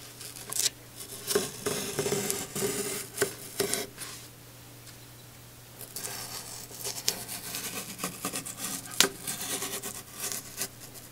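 Cardboard is cut by hand to make a mailer for shipping records, with close, irregular snips, scrapes and rustling handling noises in bursts, a short quiet pause near the middle, and a faint steady hum underneath.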